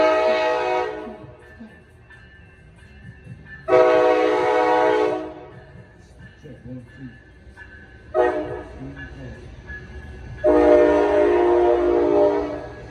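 A Coaster commuter train passes near Oceanside, sounding its horn in four long, loud blasts separated by pauses, with rumbling rail noise in the gaps.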